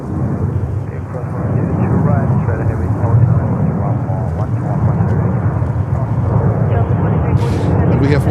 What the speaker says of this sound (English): 767-400 taking off here from Delta.